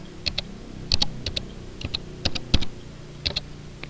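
Typing on a computer keyboard during database design work, with quick irregular bursts of crisp, close key clicks and short pauses between runs of keystrokes.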